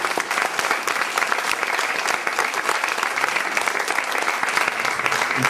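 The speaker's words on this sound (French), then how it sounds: "je vous demande d'applaudir encore Madame Malbès, s'il vous plaît." An audience at a 2012 charity event at Lycée La Merci Littoral in La Grande Motte claps steadily, a dense, loud, sustained burst of applause from a crowd indoors.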